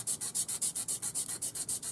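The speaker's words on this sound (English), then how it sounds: "Use our sanding stick, and I just hold it with my finger." Rapid rhythmic strokes of a hand-held sanding stick on a 4mm step bezel, each a bright, rasping scrape, repeating evenly at close range, about seven per second.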